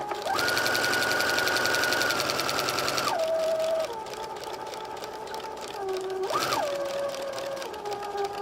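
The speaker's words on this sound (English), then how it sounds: "Lock in this stitch and go right down the end." Sewing machine stitching potholder fabric, a steady close mechanical whir whose speed rises and falls as it runs continuously, with a brief surge near the end.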